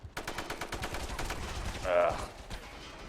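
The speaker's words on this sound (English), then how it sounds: "he's too busy shooting dudes too" Gunfire in the online shooter video game MAG plays as a fast run of sharp repeated shots, loud and close, with a brief whooshing burst partway through.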